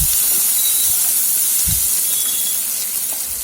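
Long-cut sliced onion added to hot oil with lentils for tomato rice hisses steadily and loudly, with a few soft low thumps from the pan and no speech.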